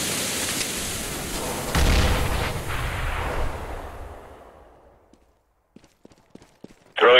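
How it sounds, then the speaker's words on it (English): A thrown flashbang grenade in Counter-Strike: Global Offensive bursts with a sharp bang that rings out and fades into near silence, followed by a few faint clicks and a sudden loud noise at the end. "Throwing flashbang"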